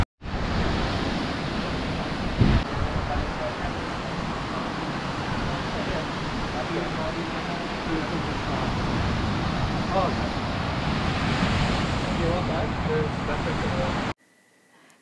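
Steady surf washes along a beach in Lombok beside a holiday resort, a constant broadband roar of breaking ocean waves over about fourteen seconds with a brief thump near the start, then cutting off abruptly.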